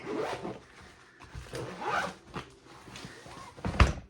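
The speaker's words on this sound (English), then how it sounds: "I got to zip my sort and stash up real quick." A craft storage bag being zipped shut, several short close zipper pulls with pauses between them and a final quick rip.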